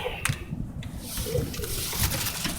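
Tippler pigeons for sale coo in low, repeated soft notes amid general loft noise and rustling.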